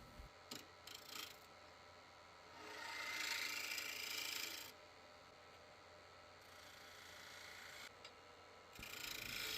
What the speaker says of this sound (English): This is just pine 2x4, using a 1/2 inch spindle gouge to get this down to round